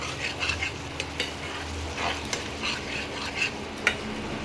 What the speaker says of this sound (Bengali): যতক্ষণ না তেল ছাড়ে ততক্ষণ মশলাটাকে ভালো করে কষিয়ে নিতে হবে।